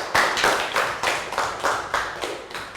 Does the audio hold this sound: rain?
no